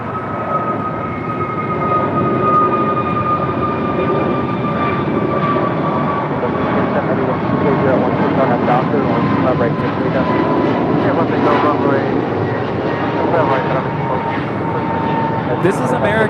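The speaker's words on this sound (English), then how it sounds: "This is American Airlines 2543 departing to Dallas Fort Worth on an A321neo." An American Airlines Airbus A321neo departs for Dallas Fort Worth on a windy day, its engines roaring loudly and steadily with a drifting whine throughout, while people talk over it.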